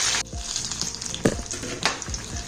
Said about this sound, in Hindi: मीडियम फ्लेम पर अच्छी तरह से इसको हम फ्राई कर लेंगे जब तक ये अच्छी तरह से क्रिस्प नहीं हो जाता